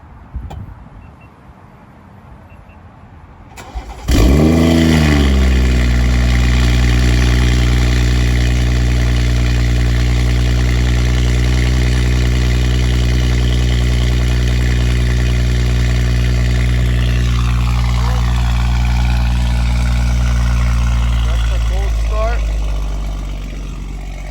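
A 2019 BMW with a full valvetronic exhaust, valves open, and a catless downpipe fires up from cold after a few seconds of quiet, then holds a loud, deep, steady idle that eases slightly near the end.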